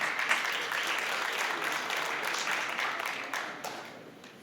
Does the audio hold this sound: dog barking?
no